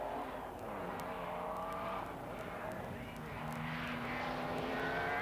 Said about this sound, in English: the car gets away from the line in magnificent style